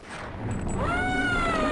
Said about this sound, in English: Gonarch makes these sounds that I can only describe as like a sad cat purring